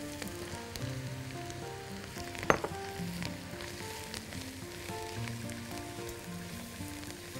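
Butter melting with mushrooms in a hot pan for baked potatoes, giving a steady close sizzle and fry crackle throughout, with one sharper spatter pop midway and no talking.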